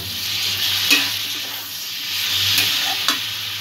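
A chole masala mixture with a spoonful of yogurt is stirred steadily in a frying pan. It sizzles continuously and close up, with a few soft spoon scrapes and clinks against the pan.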